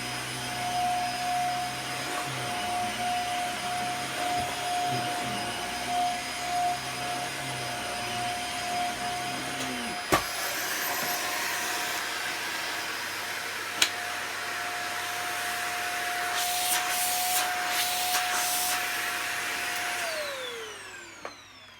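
A Dyson DC50 upright vacuum cleaner runs on carpet with a steady whining drone. Its motor tone shifts partway through and it winds down near the end.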